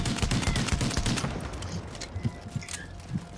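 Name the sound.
gunfire from weapon in video game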